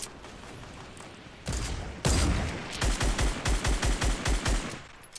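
Automatic gunfire in the Fortnite Battle Royale video game: a loud close burst, then a rapid steady string of about ten evenly spaced heavy shots, with no talking.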